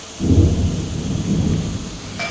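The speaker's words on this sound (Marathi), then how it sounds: "एवढा तुफान पाऊस चालू आहे ना आवाज" Deep rolling thunder rumbles over a steady wash of heavy rain, loud and close, swelling then easing.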